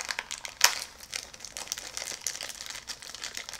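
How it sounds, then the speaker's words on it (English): Plastic bag from a Loot Crate subscription box being torn open, a quick crinkling rip with one sharp burst early, followed by softer scattered crackles of handled plastic, close and fairly quiet. "I'm going to tear this bag open."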